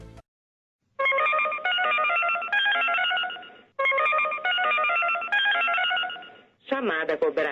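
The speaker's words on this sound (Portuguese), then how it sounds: "Tá chamando." A telephone line plays a brief burst of dialing tones, then a repeated electronic ringing tone in two long, loud bursts, followed by a shorter warbling tone at the end.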